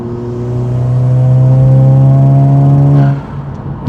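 A turbocharged engine in a stage 3 Volkswagen Scirocco revs and holds a steady, loud drone with a rising tone, then drops off abruptly near the end.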